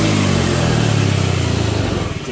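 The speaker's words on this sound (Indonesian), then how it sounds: "Bunyi mesin pun juga sudah sangat halus." A Honda Beat FI scooter engine runs after repair, a loud, close, steady mechanical hum with a low droning pulse that eases slightly toward the end, with no talk.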